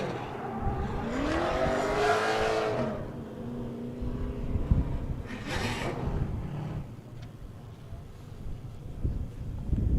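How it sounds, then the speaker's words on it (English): Gorilla Energy Mercedes 190E drift car at a drift qualifying event, engine revving hard with a rising wail and tire squeal early, then a broad rushing burst midway and fading engine noise toward the end, fairly close and loud. "Nikita got a full pull in that Gorilla Energy Mercedes 190E."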